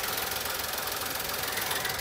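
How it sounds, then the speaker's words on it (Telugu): A 1.2-litre petrol engine in a 2010 VW Polo Trendline idles steadily and close up, a smooth broadband hum with no talk over it. "ఇంజన్ చూడొచ్చు ఎంత సైలెంట్ అంటే అంత సైలెంట్ ఉంది"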